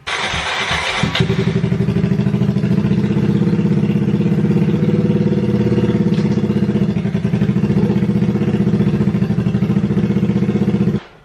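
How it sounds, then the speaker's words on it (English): A Kawasaki Z125 motorcycle with a newly installed RSC clutch starts with a brief cranking burst, then settles into a loud, steady, close-up idle that runs for about ten seconds before cutting off. "then start the bike"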